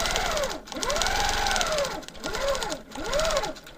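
Sewing machine doing free-motion quilting with a hopping foot, a fast rhythmic needle chatter that surges and dips in four bursts as the speed changes, loud and close.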